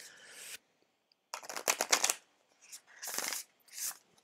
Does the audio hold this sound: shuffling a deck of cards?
yes